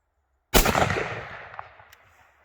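A single rifle shot cracks loudly outdoors and rolls away in a long decaying echo over about two seconds.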